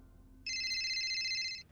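An incoming call sets off a phone ringtone: a single steady electronic trill, bright and clear, holding for just over a second after a quiet room tone, no talking.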